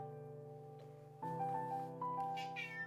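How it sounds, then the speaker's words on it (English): A cat meows loudly several times in a row, close by, with drawn-out tonal calls that rise and fall, alone without talk. "Oh, she's such a loud kitty"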